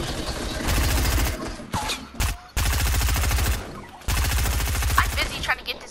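Rapid bursts of gunfire in a Fortnite match, loud and close, coming in three long sustained volleys separated by brief gaps, with faint clicks and game effects between them.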